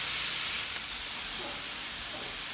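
Beef stew meat sautés in a pan with a continuous, even, close hiss of frying, steady from start to finish with no talk over it.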